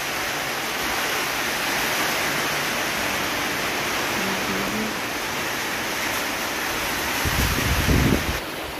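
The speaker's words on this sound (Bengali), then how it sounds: "সেই শব্দ হচ্ছে, শুরু হয়ে গেল বৃষ্টি।" Heavy rain pours in gusts, a dense, loud, steady hiss with a brief low thump near the end.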